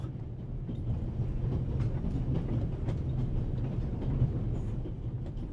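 A train runs steadily in a video game set aboard a passenger train, with a continuous rumbling roll and faint rhythmic clatter of wheels on track, heard alone without talk.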